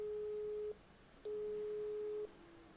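Telephone ringback tone on a call to a mobile that goes unanswered, two long steady beeps separated by a short pause, clear and alone with a faint line hiss underneath.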